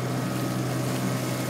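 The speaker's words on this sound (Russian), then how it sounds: "мотор идет хорошо, ровно" A boat's petrol outboard motor runs steadily out at sea, a constant even drone with wind and water noise, loud and close throughout.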